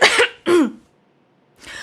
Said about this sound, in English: as you are coughing